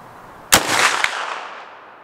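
One Marlin 1895SBL rifle shot cracks out loud at an outdoor range with a long rolling echo, and a second, weaker report follows about half a second later.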